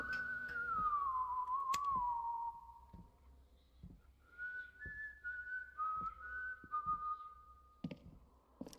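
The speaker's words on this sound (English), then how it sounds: "At least I know everything's okay if the guy's whistling." A man whistles in the horror video game White Day: a clear melodic tune that glides downward, then several held notes, with faint clicks and thuds in the quiet background.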